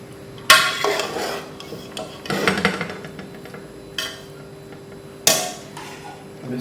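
Biryani being mixed in a cooking pot, several sharp metallic scrapes and clanks of a spoon against the pot separated by short pauses, close and fairly loud.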